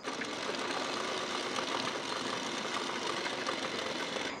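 A sewing machine runs steadily, stitching a folded strip of fabric onto a bra-cut blouse, with a dense, continuous mechanical whir at constant loudness and no pauses or talk.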